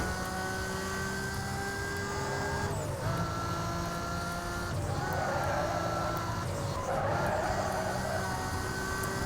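Engine note of a car at very high speed in Need for Speed Most Wanted, a steady loud drone with tonal harmonics and rushing wind noise, with brief swells of whooshing roughly every two seconds.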